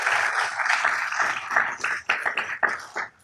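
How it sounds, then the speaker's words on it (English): Applause for Carrie at a Downey city council meeting, a modest group clapping unevenly in a room, a few distinct claps standing out before it tapers off. "Can you please give her a round of applause?"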